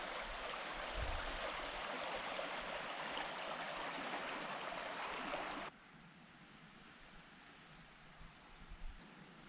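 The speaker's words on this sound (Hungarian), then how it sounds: "itt már jóval bővízűbb a patak" A stream near the Austrian-Hungarian border, fuller than upstream, flows as a steady broadband rush of water. It is loud for the first half, then drops to a quieter, more distant gurgle with a few brief splashes near the end.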